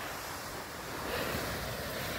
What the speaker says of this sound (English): This is, for me, the ever elusive Pacific Ocean.